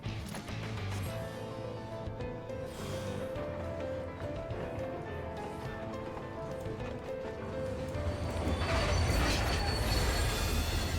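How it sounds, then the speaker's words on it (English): A train in the Final Fantasy XIV video game returning: steady mechanical rumbling and rhythmic clanking with ringing tonal hums, swelling louder and noisier toward the end. "And then the train returns."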